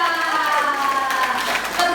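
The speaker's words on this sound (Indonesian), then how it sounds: "Tepuk tangan buat Claudia" Audience clapping for a woman named Claudia at a talk, a steady patter of many hands held at a fairly even level for the whole moment, with some voice-like tones mixed in underneath.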